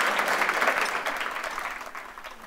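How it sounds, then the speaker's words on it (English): Audience applause for speakers at a talk event, a brief wash of many hands clapping, fairly close and even, fading slightly toward the end. "I would like to ask an applause for our speakers."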